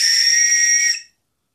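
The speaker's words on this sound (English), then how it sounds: "Whistle. Has a clip on it. Let's test it out." A survival whistle gives a single loud, shrill blast held steady for about a second, then cut off abruptly, followed by silence.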